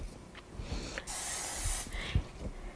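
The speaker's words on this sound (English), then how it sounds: "all you got to do is spray it with nonstick first" Nonstick cooking spray hisses in one steady burst of just under a second onto a Redi Set Go cooker, close and fairly loud over a faint background.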